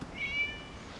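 A cat meows once inside the video game Genshin Impact, a short, clear, moderately loud call that rises and falls over about a third of a second against a quiet ambient background.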